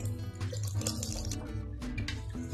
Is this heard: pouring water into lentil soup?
yes